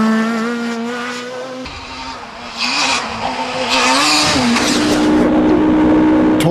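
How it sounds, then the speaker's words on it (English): A Ford Fiesta Super 2000 rally car screams at maximum revs on a coastal rally stage in Northern Ireland, its high engine note loud and sustained with gear changes and rising pitch throughout. "The Super 2000 Fiesta reaches maximum revs and speed on the Glendon stage"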